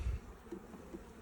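Honeybees buzz around an open hive during an inspection, a faint soft hum with a couple of brief louder passes near the ear.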